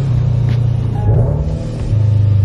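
A Scion FR-S engine with a blow-off valve idles close by as a low, steady rumble with slight swells, heard alone without talk.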